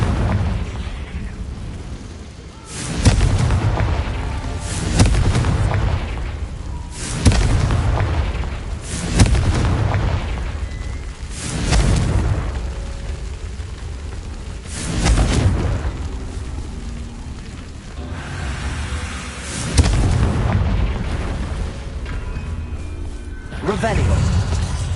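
Repeated Bombarda and Confringo spell explosions from Hogwarts Legacy gameplay land every few seconds as heavy booms with rumbling low-end bursts, spaced fairly regularly over continuous background game sound.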